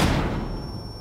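A flashbang goes off in Rainbow Six Siege with a heavy, booming thud that decays quickly into a low rumble, followed by a thin high ringing tone and a faint click near the end.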